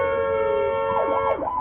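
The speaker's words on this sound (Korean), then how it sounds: "초록색 경광등을 켜고 달리던 구급차" An ambulance siren in congested traffic wails steadily and loudly, then shifts into a rising and falling yelp pattern toward the end, heard alone without talk.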